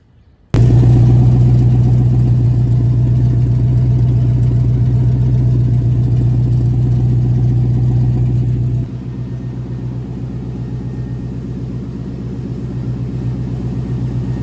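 The LS engine of a 1972 Chevrolet El Camino with newly welded exhaust turns over and settles into a steady, loud idle with a low droning hum, dropping to a slightly quieter idle partway through.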